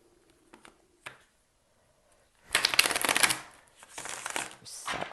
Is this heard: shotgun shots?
no